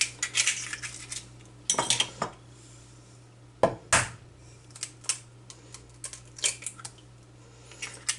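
Two eggs are mixed into cheesecake cupcake batter in a bowl, with sharp irregular clicks and clacks of a utensil striking the bowl and soft stirring in between.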